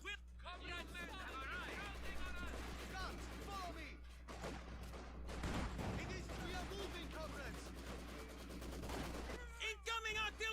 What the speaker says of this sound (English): Where's the artillery coming from?